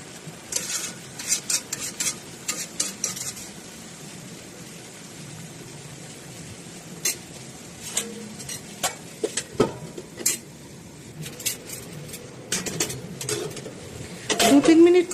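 Hilsa fish head and Malabar spinach greens stirred in a pan: intermittent scraping and clinking of a spatula against metal over a faint sizzle, close by, with a brief voice near the end.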